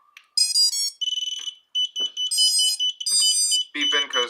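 A run of electronic beeps and chirping tones, bright and close, repeating in quick, uneven bursts with short gaps between them.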